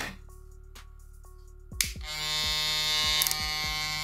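A Wmark NG 9002 hair clipper with a swapped faceplate switches on after a quiet hum and buzzes loudly and steadily close up, with a few clicks as it is handled.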